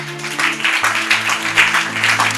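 Audience at a Bible teaching session clapping in a steady burst of applause, with a held tone of background music underneath.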